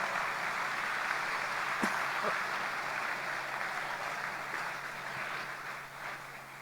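Crowd applause at the national TVET Day opening ceremony in Malaysia, a steady broad wash of many hands clapping at moderate distance for several seconds, with no speech over it and a slight fade toward the end.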